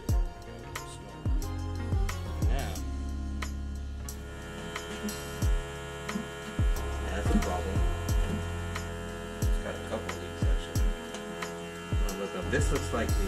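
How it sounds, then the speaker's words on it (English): A smoke machine runs during an intake leak test on a GM 3.6L engine, giving a steady electrical hum with repeated ticking clicks and low throbbing pulses throughout. "Now that this machine is pumping out smoke, let's get it connected and check for leaks."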